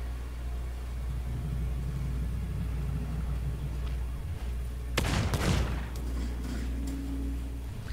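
Enemy gunfire in Sea of Thieves, a brief cluster of sharp blasts over a steady low rumble, sounding mid-distance and fairly loud against the constant background drone.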